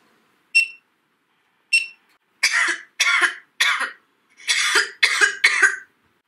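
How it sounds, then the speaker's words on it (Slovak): A girl coughs several times in a row, loud and close, with sharp, separate bursts after two short electronic beeps. "V tomto momente počujete kašľať dievčinu."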